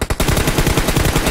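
Rapid automatic gunfire rattles in a battle royale game, a loud, close, evenly spaced burst of shots running almost the whole moment after a brief gap.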